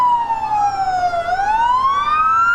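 Fire engine siren wailing during a small-town festival parade in Rolling Fork, Engine 23 of the Rolling Fork Fire Department, a loud close tone sweeping down then rising again, steady and continuous with vehicle rumble beneath.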